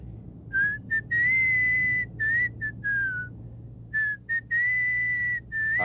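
A person whistles a happy, bright melody in short phrases and longer held notes, clear and close over a quiet low hum.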